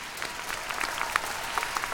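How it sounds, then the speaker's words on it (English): Graduates at a commencement ceremony give a brief round of applause, a short burst of dense clapping with a few sharper individual claps standing out. "give yourselves a round of applause"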